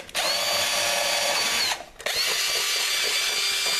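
A pillar drill bores a 5.5mm hole through wood over waste material on a bench, a steady loud whine that dips briefly to near quiet before spinning up and cutting again.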